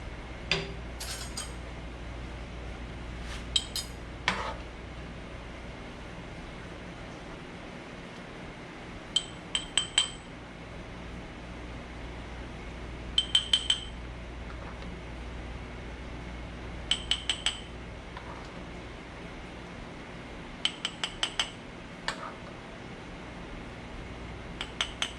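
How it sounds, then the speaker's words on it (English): Mango habanero jam spooned into glass jars, with sharp, scattered clinks of metal spoon against glass in small clusters over a quiet room hum, close and otherwise still. "And now I'm going to start scooping this into my jars."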